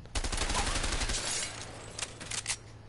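Gunfire in the co-op game A Way Out as shots hit tin cans, with a dense burst of rapid reports at the start, then a few sharper isolated cracks fading out.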